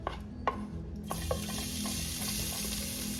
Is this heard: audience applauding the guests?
no